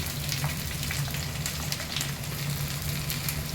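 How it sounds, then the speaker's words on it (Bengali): Onion frying in a pan with potatoes and moringa drumstick stalks, a continuous soft crackling sizzle with scattered pops and a faint low hum, no voices. "এবার পেঁয়াজটা দিয়ে দিচ্ছি।"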